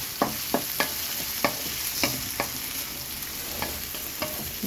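Onions and peanuts fry in a hot pan with a steady low sizzle, broken by a series of sharp clinks and scrapes from stirring at irregular intervals.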